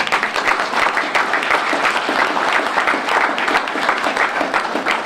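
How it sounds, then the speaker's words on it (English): Audience at an NAACP Martin Luther King Jr. breakfast applauding, a close, lively burst of many hands clapping with a crisp, uneven rhythm that holds strong for several seconds without speech. "If you believe that, give yourself a hand clap"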